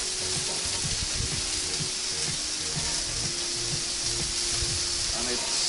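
Meat sizzling loudly on a grill after being flipped, a steady dense hiss with a faint rhythmic thumping underneath, close and continuous throughout.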